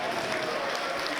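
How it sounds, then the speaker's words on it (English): An audience applauds at a charity auction ball after a winning bid, a dense, steady wash of clapping filling the room throughout the short moment. "Give her a round of applause."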